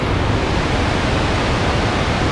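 Chitrakoot waterfall roars as a loud, dense, constant rush of falling water, steady and unbroken, with no voices.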